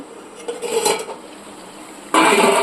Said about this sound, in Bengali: দেখো এটাকে ভালোভাবে নাড়িয়ে একটু সময়ের জন্য ঢাকা দিয়ে দিতে হবে